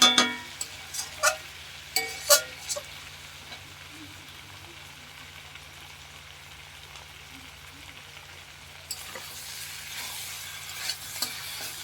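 Meat being stir-fried as kosha in a pan, with a soft continuous sizzle, a few sharp clinks and scrapes of a spatula early on, then a stretch of quieter frying before the sizzle rises again.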